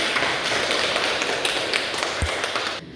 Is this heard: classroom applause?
yes